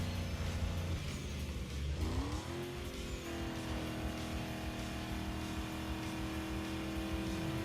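A Lincoln Navigator SUV engine in Need for Speed Underground 2 drones loud and steady, its pitch rising through a gear change and then holding at a high cruising whine, with no talk over it.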